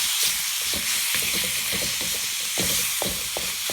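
Pork frying in a pan for spring rolls gives a steady close sizzle, with occasional stirring scrapes and pops and no talking.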